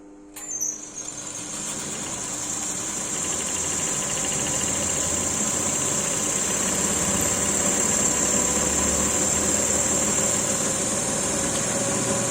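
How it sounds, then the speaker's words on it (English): A prime mover engine drives an alternator in a lab test setup, producing a steady, continuous engine hum with a high whine, close and unbroken throughout after a brief start. "Our prime mover is running, that means field is rotating at this instant"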